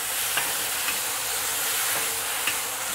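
Cornstarch garlic sauce poured over eggplant in a hot wok, a steady bright sizzle and hiss with a few faint clinks of stirring, close and continuous with no voices.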